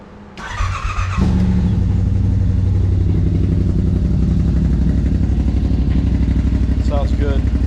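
A cold Yamaha RMAX side-by-side with a Hunterworks exhaust tip cranks briefly and fires, settling at once into a loud, close, deep and evenly pulsing idle.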